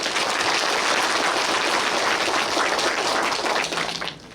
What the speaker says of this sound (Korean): 앞으로도 더 잘해달라고 격려의 박수 좀 부탁드립니다.